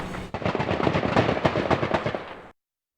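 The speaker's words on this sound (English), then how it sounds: "A police standoff ends in a hail of gunfire" Gunfire during a police standoff at a Kalamazoo-area mobile home park, a rapid burst of many sharp, cracking shots in quick succession, loud and dense for a couple of seconds before stopping abruptly.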